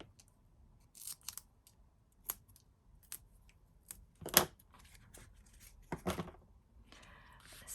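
Scissors snip through a paper sentiment in a quiet crafting room, several short, sharp cuts spaced irregularly, with a couple of louder snips and faint rustling in between.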